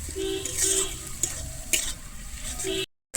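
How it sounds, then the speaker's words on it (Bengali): Ginger garlic paste sizzles in a hot pan while a utensil scrapes and stirs, ending in a brief moment of silence. "আমি আদা রসুন বাটাটা দিয়েও কিন্তু খুব ভালোভাবে আবারও ভেজে নেব"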